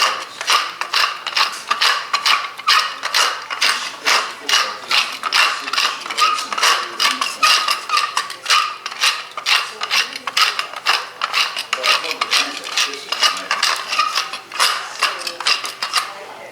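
A pepper grinder cranks over cabbage roll filling, a rapid run of dry, ratcheting grinding bursts repeating in a steady rhythm, close and fairly loud throughout.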